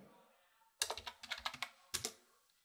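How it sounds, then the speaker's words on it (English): Short bursts of keystrokes on a computer keyboard while entering position values in PowerDirector video editing software, a cluster of quick clicks followed by a pause and two final taps, close and clear with no talking. "I'm going to type in the X position that I want."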